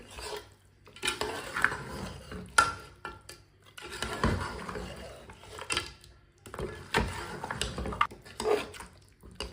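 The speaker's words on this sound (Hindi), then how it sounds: "अच्छी तरह मिक्स कर लेंगे।" A spoon stirs goat meat with garam masala in a cooking pot for a Bakra Eid curry, giving intermittent scraping and clattering bursts with short quiet gaps between strokes.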